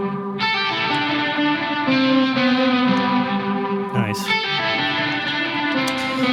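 Distorted electric guitars in a mix, recorded with a 57 and a Royer microphone, a dense sustained chordal wash with a strummed change near the middle; a voice briefly speaks over it.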